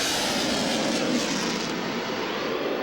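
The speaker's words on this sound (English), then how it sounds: "Both afterburners going full there." An F-14 Tomcat jet with both afterburners lit roars past continuously and loudly, a broad, steady blast with no voices over it.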